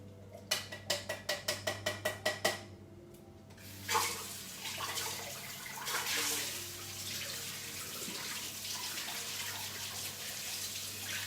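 Canned beans rinsed under a running kitchen tap for homemade hummus; a steady broadband rush of water flows for most of the stretch after a run of quick rhythmic clicks at the start.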